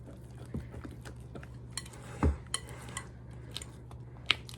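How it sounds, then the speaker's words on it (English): Apple cider donut batter being mixed in a bowl with a utensil, quiet scraping and stirring with scattered light clinks against the bowl and one louder knock midway, close and sparse over a low background hum. "So we're just mixing this until we get everything combined, making sure to scrape the bottom of our bowl."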